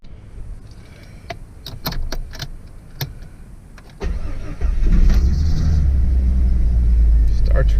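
A Jeep XJ with new radiator hose and fresh fluids cranks and fires up promptly, clicks and rustling giving way to a close engine start that settles into a strong, steady idle rumble.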